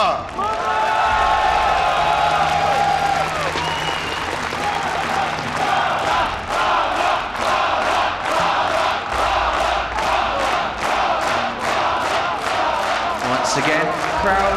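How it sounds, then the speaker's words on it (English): A loud arena crowd at a StarCraft II esports playoff match at IEM Katowice cheers and chants in rhythmic bursts, with clapping and roaring that swell and pulse while a commentator talks over it. "Once again, crowd behind MaNa, as that's what he really needs here"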